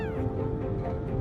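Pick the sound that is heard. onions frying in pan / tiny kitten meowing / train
tiny kitten meowing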